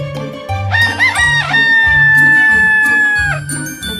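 A cartoon rooster in a Hindi village story crows loudly and close, a long rising-then-held cock-a-doodle-doo over a bouncy musical backing with light chimes, and no speech.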